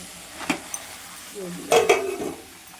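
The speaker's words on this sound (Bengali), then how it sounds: "বাঁধাকপিটাকে দিয়ে হলুদ লবণ দিয়েছি দিয়ে ভালো করে নাড়াচাড়া করি" Cabbage with turmeric and salt being stirred in a frying pan, giving a soft sizzle with a few scraping and clinking stirs, louder bursts near the end.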